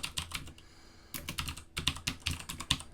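Someone types a short phrase on a computer keyboard, a close run of quick key clacks with a brief pause near the start and no speech.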